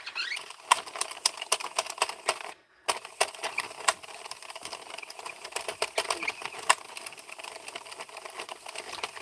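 A 22-pin circular knitting machine being cranked to make pumpkins, giving a steady stream of close, sharp mechanical clicks and clacks with a brief pause partway through.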